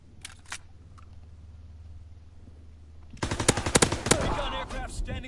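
Gunfire in a World War II shooter game, with a couple of sharp shots early on, a quiet stretch, then rapid bursts of close, loud automatic fire rattling over a low background hum.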